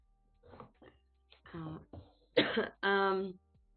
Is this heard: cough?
yes